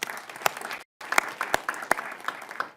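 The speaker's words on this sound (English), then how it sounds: "so let's give them a round of applause." A fast pitch competition audience applauds briefly, with steady clapping and a few sharp individual claps standing out, broken by a very short gap.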